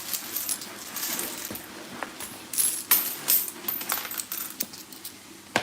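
Coins clink and rattle in scattered bursts as a piggy bank is emptied, close and fairly quiet, with faint shuffling between the metallic clatters.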